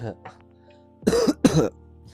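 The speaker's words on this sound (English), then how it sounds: "I got hit with a random cough attack." Two harsh coughs in quick succession, loud and close, with faint breathing before and after.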